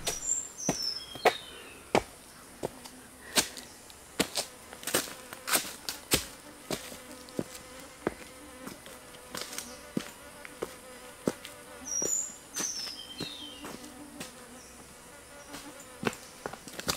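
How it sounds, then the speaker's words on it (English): Insects buzz and whine around in a Thai jungle, sounding like a mosquito swarm, with sharp repeated clicks and taps scattered through and faint chirps at times. "There are so many mosquitoes here, holy crap."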